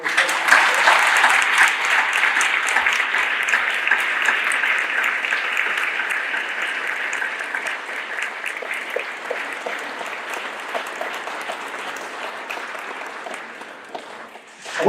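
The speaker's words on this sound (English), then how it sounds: "So let's give Amanda a big round of applause." Sustained audience applause at a Holocaust commemoration event, dense and steady clapping from a large room that gradually thins and fades near the end.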